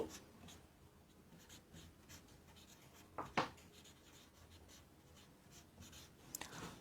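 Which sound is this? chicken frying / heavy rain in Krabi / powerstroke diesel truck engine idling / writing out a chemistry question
writing out a chemistry question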